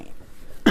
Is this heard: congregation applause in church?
no